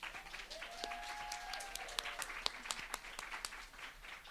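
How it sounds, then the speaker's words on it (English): A modest, scattered round of clapping from the audience at an animation industry panel, with sparse claps over a faint background murmur. "So everyone give them a round of applause."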